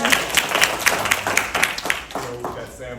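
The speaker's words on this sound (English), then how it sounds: "We can clap it up for Arden." Applause for Arden Walker at a Colorado football camp, a modest run of rhythmic clapping from a small group, with a voice talking over it toward the end.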